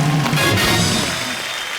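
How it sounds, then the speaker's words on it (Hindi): A studio audience at a comedy talk show applauds with loud, dense, continuous clapping that tapers off slightly toward the end. "एक बार तालियां बजती रहें"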